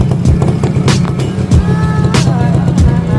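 A motorcycle engine idles steadily at close range during a maintenance demonstration, a low continuous rumble with a few sharper clicks and knocks over it, heard alone without talk.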